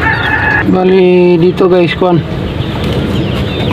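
Laying hens, two Texas birds and a native one, cluck loudly and closely during an egg harvest in a coop, their calls rising and falling while someone talks over them.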